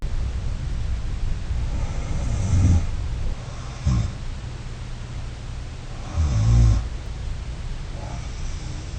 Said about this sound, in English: the patient recorded snoring while they slept